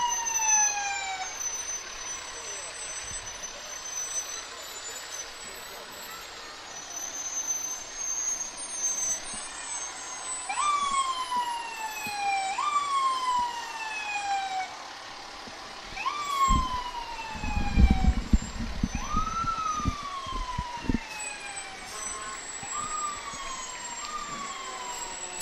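Fire engine sirens wail in repeated rising-and-falling sweeps from 1989 Mack trucks rolling in a Memorial Day parade, overlapping one another, with a burst of air-brake hiss and rumble partway through.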